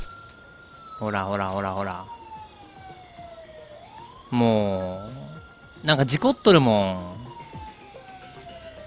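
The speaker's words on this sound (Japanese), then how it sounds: "パトカーおるんでしょ、これ多分。" A police car siren wails in the video game Thief Simulator, a slow rising and falling tone at moderate distance running throughout, while someone talks excitedly over it in bursts.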